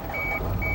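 A snow-covered car's engine rumbles low and steady close by, while a thin electronic beep chimes twice over the idle.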